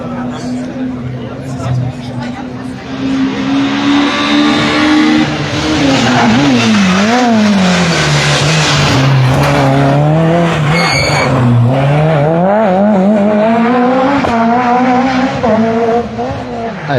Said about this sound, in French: très beau passage de la famille Cursa, avec un gros freinage au bout de la réaccélération là-bas